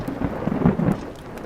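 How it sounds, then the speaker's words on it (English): Storm sound effect of low rumbling thunder over steady rain, the rumble swelling in the middle and fading as the rainfall continues. "thunder rumbled, and rain fell by the bucketful"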